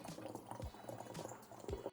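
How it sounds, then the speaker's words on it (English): Homemade Nuka Cola syrup mixture being poured slowly, a soft, close liquid gurgle and trickle lasting a couple of seconds, faint and without speech. "Now I'm gonna carefully pour this in, slowly."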